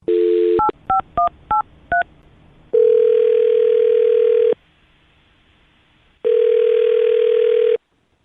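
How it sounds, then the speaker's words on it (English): A quick series of touch-tone beeps as a number is dialed, followed by two long ringback tones separated by a pause. "I'm going to dial her phone number right now."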